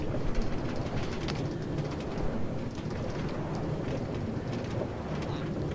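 Steady rumbling subway train ride in Minecraft with a continuous low roar and faint clattering, a few brief high chirps poking through, no talking.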